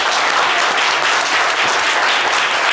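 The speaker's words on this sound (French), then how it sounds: "On peut l'applaudir très très fort." Dense, steady applause from a live audience at a public gathering, loud and close, filling the whole moment without a break and with no voices rising above it.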